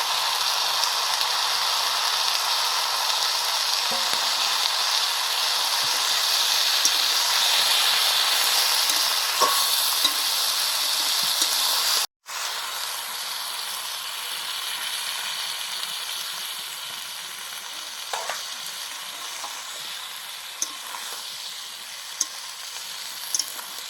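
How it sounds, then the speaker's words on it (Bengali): Mustard seeds and a little cumin fry in oil with vegetables in a pan, giving a loud continuous sizzle and hiss with occasional stirring scrapes, briefly cut off midway, without any talking. "এখন দিচ্ছি সর্ষে আর অল্প একটু জিরে"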